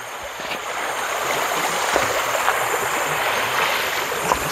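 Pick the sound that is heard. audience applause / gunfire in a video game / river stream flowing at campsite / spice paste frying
river stream flowing at campsite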